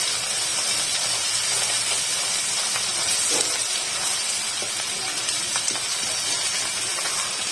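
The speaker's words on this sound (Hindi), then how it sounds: "इसके साथ ही अपने लहसुन अदरक ऐड कर दूंगी इसमें, ताकि साथ में ये भी फ्राई हो जाए।" Garlic and ginger frying in a pan for a white bean (lobia) masala curry give off a steady, close sizzling hiss that runs unbroken throughout with no voices.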